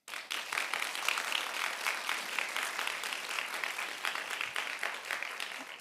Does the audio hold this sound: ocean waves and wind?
no